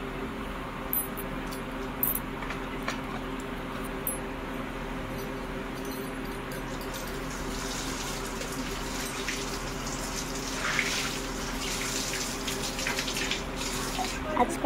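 Water running from a tap to fill a container in a home, a steady hissing stream throughout that grows brighter and splashier in the later seconds, with faint voices in the background.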